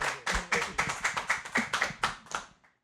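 A small live audience at Black Rabbit Meadery claps in a quick burst, about ten distinct close hand claps in an uneven rhythm that thin out and stop after a couple of seconds.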